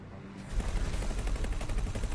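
A missile launch in the X4 space game, a sudden loud burst that kicks in after a quiet half second and carries on as a dense, rapid rumbling roar of repeated firing.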